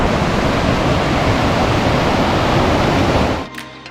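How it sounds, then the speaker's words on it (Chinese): A fast stream swollen into a river near Rila Monastery in Bulgaria rushes loudly and steadily as a broad, constant roar, then drops away sharply near the end. "小溪现在变成河流了"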